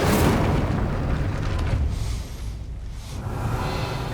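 The Incendio fire spell from Hogwarts Legacy bursts in a loud, roaring whoosh of flame that rumbles on and dips briefly before swelling again.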